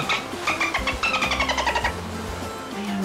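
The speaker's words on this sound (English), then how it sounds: "Our last mystery sound was a dolphin." Dolphin at the beach out in the water, producing a rapid series of high whistling chirps and clicking squeaks over a low background rumble, fairly close and clear.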